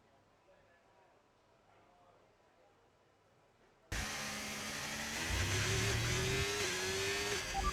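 Race cars lapping the Circuit of the Americas at full qualifying speed in the F1 25 video game, first quiet with a voice speaking, then a sudden loud engine whine holding high revs with pitch shifts.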